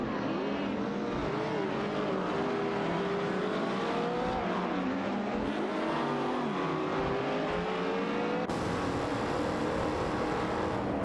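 Race cars in an AI racing video game drone on continuously, their engines loud and steady with pitch sweeping up and down through gear changes, running without any talk.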